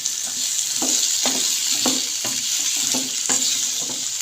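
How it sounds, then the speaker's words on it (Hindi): Potatoes fry in a pan over a high flame for a capsicum and potato dish, giving a constant hissing sizzle broken by regular clacks and scrapes of a spatula stirring, with no one speaking. "यहाँ पे इसको हम फ्राई करेंगे 3 से 4 मिनट के लिए"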